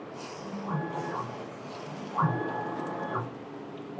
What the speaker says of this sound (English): we press X home and test vertical calibration print.